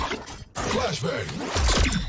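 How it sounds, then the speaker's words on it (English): A flashbang grenade goes off in Valorant during a professional VCT 2022 match, a sudden bright burst after a brief hush, set amid dense game noise with a commentator's voice running through. "flashbang."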